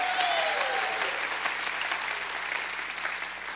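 A church congregation at an evening spring revival service bursts into loud, sustained hand clapping that fills the room steadily for several seconds.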